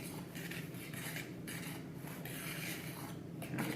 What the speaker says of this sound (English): we're going to mix up our dry mixture to get those seasonings spread throughout